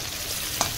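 Masala sizzles steadily in hot oil for a fish curry, a dense continuous hiss with one brief stir-like clatter partway through.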